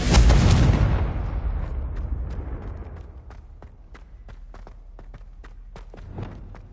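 A Confringo blasting curse explodes in a Harry Potter video game: a loud, close burst that decays over a few seconds into a sparse trail of sharp crackles and ticks.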